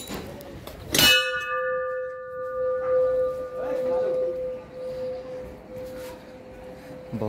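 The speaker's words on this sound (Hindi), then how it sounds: "घंटी।" A single temple bell at a Hindu temple is struck loudly, its bright metallic tone ringing on with a long sustained hum, set against a busy background of crowd murmur.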